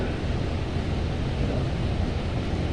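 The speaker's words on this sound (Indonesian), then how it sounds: "Tingkat hembusan angin atau noise AC sentral itu sangat" Central air conditioning blows steadily inside a closed room of a newly built government office, a constant, even rushing hiss with no variation and no voices.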